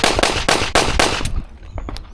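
A built Glock 45 pistol fires a rapid string of about five loud, sharp shots at a shooting range, fast and evenly spaced, followed by fainter clicks and handling noise.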